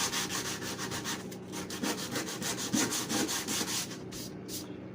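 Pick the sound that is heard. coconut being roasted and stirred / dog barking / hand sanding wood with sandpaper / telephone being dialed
hand sanding wood with sandpaper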